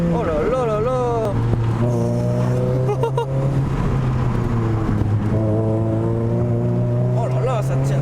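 A naturally aspirated Renault Clio 3 RS on a race track, its engine droning loudly and climbing in pitch as it revs, heard from inside the car while someone talks excitedly over it.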